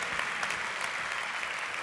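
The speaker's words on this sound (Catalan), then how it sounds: "Un aplaudiment, Ferran Pujalte" Steady, dense applause from an audience at a local sports awards gala in Vic, honoring the city's best coach of 2016, sustained evenly throughout.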